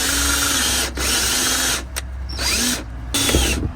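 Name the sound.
drilling a centering hole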